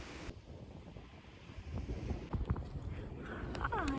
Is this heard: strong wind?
yes